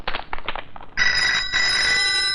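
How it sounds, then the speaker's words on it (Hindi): Telephone bell in a Hindi Amitabh Bachchan action film: a short clatter of movement, then a bright, steady electric ring starts abruptly and continues with a brief dip, loud and close. "निकलते वक्त फोन की घंटी"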